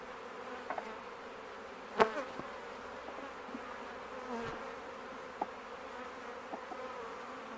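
Honey bees buzz steadily around a hive being split and set back in its original spot, a soft continuous drone with a few brief sharper bumps and knocks, no voices.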